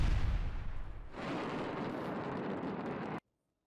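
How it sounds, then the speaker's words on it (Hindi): A Grad rocket explodes during an attack in news footage: a heavy, rumbling blast that roars briefly, then settles into a sustained rushing roar before cutting off abruptly, with no voices. "हमले के दौरान ग्रैड रॉकेट में विस्फोट।"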